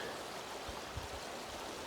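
A river flows in a steady, soft broadband rush with a few low gurgles, faint and continuous throughout with no voices.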